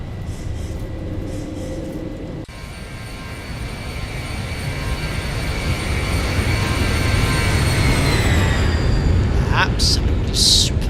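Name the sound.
Boeing 737 climbing after takeoff, X-Plane 11 video game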